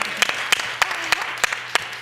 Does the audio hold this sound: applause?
yes